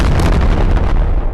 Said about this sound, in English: Oh, stop exploding!